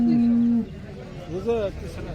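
A cow gives a long, low moo, followed shortly by a second shorter, rising call, close by, at a cattle market in Sangola, Maharashtra.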